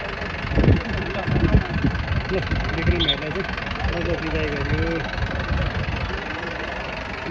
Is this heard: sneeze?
no